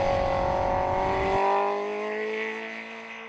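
A 2020 Honda CBR1000RR-R Fireblade motorcycle engine revs at high RPM with a loud, close, rising whine that shifts partway through, then steadies and fades slightly, with no voices.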